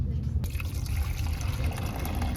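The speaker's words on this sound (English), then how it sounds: "we're going to make sure that wherever bottle we got it from, we're going to pour it back there" Black-and-white film developer chemical, a vinegar-smelling stop bath, poured from a tank back into its storage bottle, giving a steady close liquid gurgle and trickle that runs continuously without talk.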